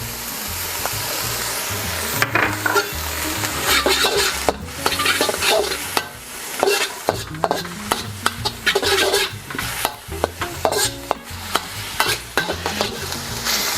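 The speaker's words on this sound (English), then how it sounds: "In goes our garlic and our ginger." Garlic and ginger frying in a wok or pan for Sichuan dan dan noodles, producing a loud sustained sizzle broken by sharp, rapid clanks and scrapes of stirring, close up with no talking.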